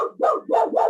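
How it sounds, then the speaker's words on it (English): A dog barks three times in a steady, close and fairly loud series, each bark a full throaty burst with short gaps between, with no speech over it. "Here's dog barking."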